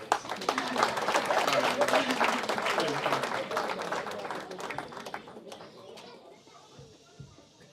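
A church congregation claps together in dense applause that fades steadily over several seconds, giving way to quieter room sound and a few scattered claps near the end.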